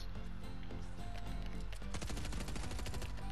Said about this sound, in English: Oh, oh, I hear shooting.